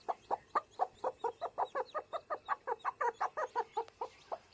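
A chicken chick peeps in a steady run of about twenty short, evenly spaced calls, close and moderately loud with no talking.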